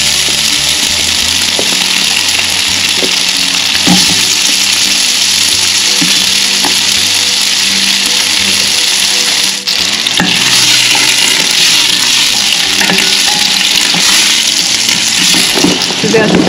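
Onions frying in melted butter in a pan while making a country-style garlic soup, with a steady, loud sizzle throughout and occasional stirring clatter, under intermittent talk.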